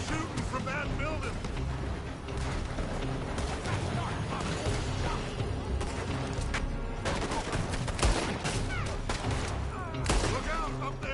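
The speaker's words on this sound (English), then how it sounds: "They're shooting from that building." Gunfire in Red Dead Redemption 2, with shooting coming from a building, a dense busy mix of overlapping shots, mechanical clatter and action noise, with voices talking throughout.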